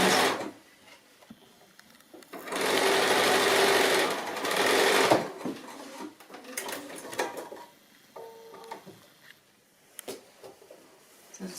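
A sewing machine stitches a quarter-inch seam joining rows of a Bento Box quilt, running steadily for a few seconds up close, then stopping as quieter handling noises follow.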